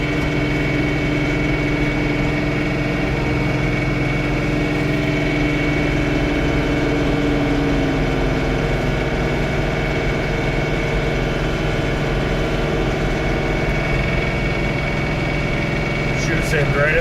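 A John Deere 3 Series tractor with a snowblower runs on light snow, giving a steady, close engine drone with a low rumble and mechanical whir that holds throughout.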